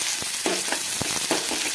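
Chopped onion frying in oil with mustard seeds and cumin, a steady close sizzle broken by several short stirring scrapes and pops, with no talking.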